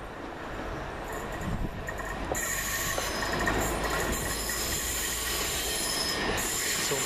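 British Rail Class 377 electric multiple unit 377514 on a Bedford to Brighton service passes close by at West Norwood, a steady loud rumble of wheels on rail with high metallic squeal throughout.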